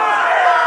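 Arena crowd in Telltale's Game of Thrones game, a short burst of massed cheering and shouting voices, steady and fairly loud, lasting under a second.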